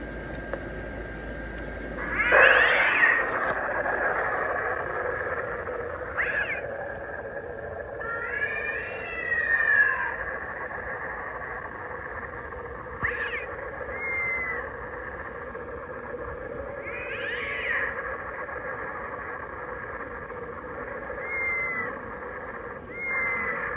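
A 2006 Gemmy airblown inflatable graveyard scene's sound box plays spooky Halloween effects: loud, eerie wailing and yowling cat-like cries and whinnying tones, several separated calls over a steady electronic hum, no talking.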